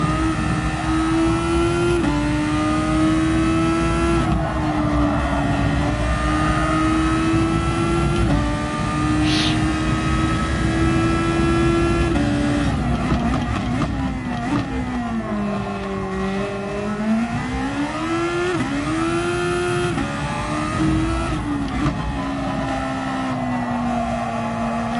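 A race car engine screams in third gear with a sustained high whine that climbs, dips and rises again as the revs change through corners, loud and continuous with no talking.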